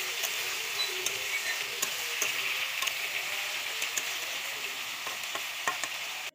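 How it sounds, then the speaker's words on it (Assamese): Ridge gourd frying in hot oil while being stirred, giving a steady close sizzle throughout with light scattered taps of a utensil against the pan. "এনেকৈ অলপ সময় লৰাই থাকিব লাগিব।"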